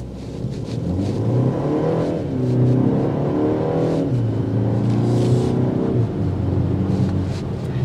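A 2024 BMW X1 xDrive28i with a 7-speed dual-clutch automatic and 295 lb-ft of torque accelerates hard in sport mode. The loud engine and exhaust note, partly piped through the cabin audio, climbs steadily through the gears with no talking.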